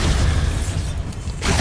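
A Bombarda blasting spell goes off in the Hogwarts Legacy video game as a loud, booming explosion that fills the moment, briefly thinning before a second swell of rumble.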